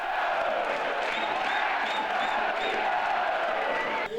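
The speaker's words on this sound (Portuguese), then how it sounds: "Apito final e festa da torcida do Capivariano." Stadium crowd of Capivariano supporters celebrating at the final whistle of a Série A3 football match, a continuous roar of cheering, whoops and clapping with some shouted voices mixed in, sustained at steady loudness throughout.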